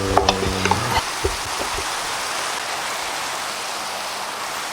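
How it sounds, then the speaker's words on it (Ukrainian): Rain falls in the Minecraft video game, a steady, even hiss of downpour that fills the scene after a few brief clicks and knocks at the start. "У мене пішов дощик."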